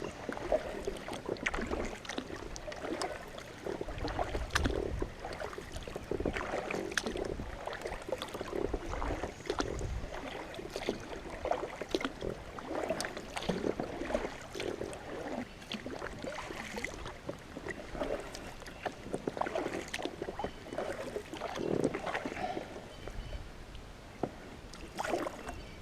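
A canoe or kayak paddled across open water, with repeated paddle strokes splashing and dripping at an irregular rhythm under steady wind noise for nearly half a minute.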